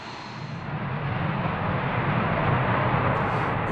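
A Mirage 2000 fighter jet takes off from an air base, its engine a loud, steady roar that builds slightly and holds broad and powerful throughout, with no voices over it.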